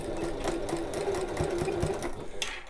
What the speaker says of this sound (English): and a bit of back stitching